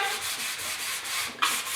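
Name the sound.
sanding plastic grill with 320 grit sandpaper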